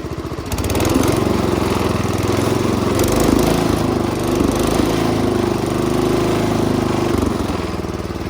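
A small engine with a carburetor problem runs rough, a loud close chugging idle that holds steady for several seconds, with uneven pulsing throughout and no talk.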